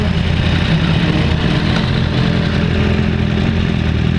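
A 2015 Yamaha R1 sport motorcycle idles close by, a loud, steady engine rumble with a fine mechanical clatter running unbroken throughout.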